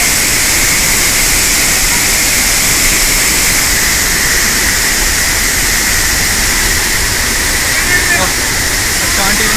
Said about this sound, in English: Isn't this the most amazing waterfall you've ever seen?